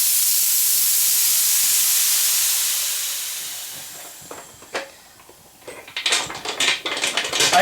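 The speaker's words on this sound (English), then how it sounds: "I always open the pressure pot opposite of each other" A resin-casting pressure pot is opened, letting out a long, loud hiss of escaping air that gradually fades, followed by quieter clanks and handling noises as the lid is worked loose.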